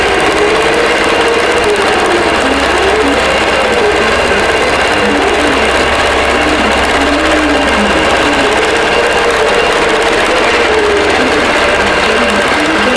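A longarm quilting machine stitches a pantograph pattern across a quilt, a loud, continuous mechanical whir with a steady rapid needle rhythm and faint cyclic swells.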